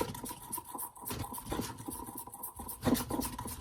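A utensil stirs chocolate melting in a pan over heat, making soft, continuous rhythmic scraping and rubbing strokes close by at low volume, with no talking.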